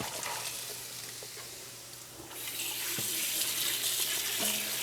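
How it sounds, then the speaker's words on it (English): Hot water runs from a tap for rinsing, a steady hiss that swells louder halfway through as the flow strikes the basin, with faint clinks underneath and no talking. "So I got hot water going here."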